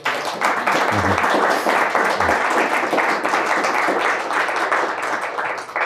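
A round of applause from an audience after a talk on pursuing justice worldwide, steady dense clapping filling the room from start to end, with a couple of low thumps early on.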